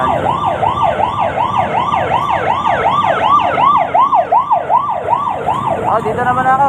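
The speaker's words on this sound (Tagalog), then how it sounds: "Kaya na, may ambulansya." An ambulance siren wails loudly in a steady, rapid rising-and-falling cycle, sounding close throughout, shifting to a faster yelp pattern near the end.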